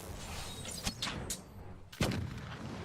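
Gunfire in the fantasy role-playing game Pillars of Eternity, a few muffled booming shots at irregular intervals, the last one heaviest, quiet and without voices.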